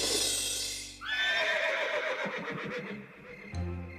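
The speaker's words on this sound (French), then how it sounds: "c'était un hennissement qui devait venir de la prairie" A cartoon horse lets out one long, loud whinny that trails off in wavering, descending tones, with a short thud near the end.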